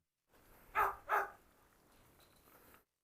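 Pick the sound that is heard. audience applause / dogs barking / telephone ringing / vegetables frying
dogs barking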